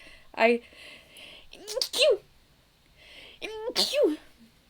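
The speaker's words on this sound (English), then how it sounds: "I feel like I'm gonna sneeze." A sharp, close sneeze bursts out between short voiced sounds, loud against an otherwise quiet background.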